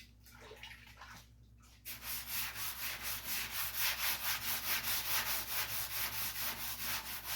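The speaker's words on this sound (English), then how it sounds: "So you can hear it cutting into the primer." Wet sanding primer on the front clip of a '51 Chevy: steady rhythmic strokes of sandpaper, a swishing rasp repeating about twice a second, close and fairly loud after a brief quieter start.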